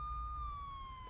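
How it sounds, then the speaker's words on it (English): Police car sirens wail steadily at the scene of a city bus crashed into the back of a pickup truck, a sustained, slowly falling tone over low rumbling traffic noise. "approaching sirens piercing the air with an incessant wailing"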